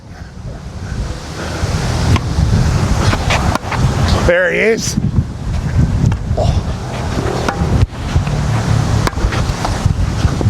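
Wind roars steadily across an outdoor rugby league field, buffeting the microphone as a constant rushing noise beneath people talking.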